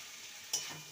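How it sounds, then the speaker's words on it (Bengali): Boiled chickpeas being turned with vegetables in a frying pan for a banana stem dish: a soft hiss of frying, then one brief scraping stir of the spoon, close and fairly quiet. "ছোলাটাকে ভালো করে সবজির সাথে নেড়ে নেব"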